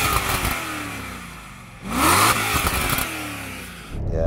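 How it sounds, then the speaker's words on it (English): An Alpina B10 V8 engine revs hard for about two seconds, a rising roar swelling from idle and falling back, then a second shorter blip, loud and close with no talk. "I'm going to rev up this Alpina."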